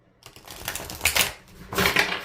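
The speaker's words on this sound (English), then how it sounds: "So I'm going to just shuffle here and I'll pull tarot cards during the reading." A deck of tarot cards is shuffled by hand, giving two bursts of crisp riffling and flapping paper, close and fairly loud, separated by a brief pause, with no talking.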